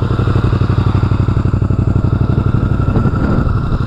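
A Honda VT250 Spada motorcycle engine idles close by, its loud aftermarket exhaust with removable baffles thumping in a fast, steady pulse.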